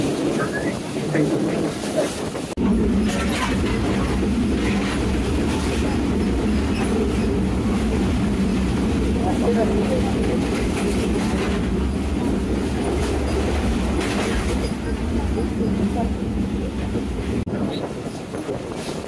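The Banglabandha Express, a Bangladesh Railway intercity train, rolls along steadily with a continuous loud rumble and rhythmic clickety-clack of wheels on rail joints, heard from on board, with faint squeals and birds in the background.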